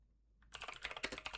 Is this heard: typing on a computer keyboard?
yes